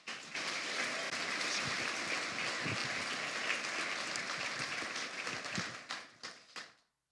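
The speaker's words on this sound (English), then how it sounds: "another round of applause" Audience applause at a city and county State of the address in Henderson, a full, sustained burst of clapping from a large crowd that fades out with a few last claps.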